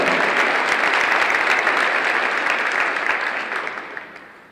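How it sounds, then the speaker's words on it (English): An audience at an awards presentation applauds loudly in a dense, steady wash of clapping that fades out toward the end. "make some noise for Sage Witta."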